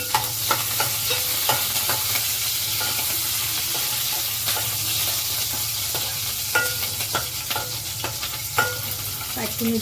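Onions and green chillies fry in a pan for vegetable fried rice, giving a steady loud sizzle with intermittent stirring scrapes and clinks throughout.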